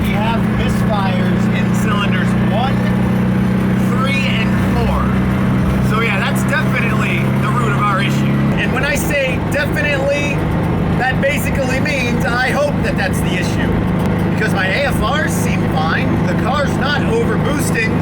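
A turbocharged Toyota FRS engine with roughly 400 wheel horsepower and a misfire runs at a steady, droning idle, its low hum shifting partway through and continuing evenly to the end, with a voice faintly present.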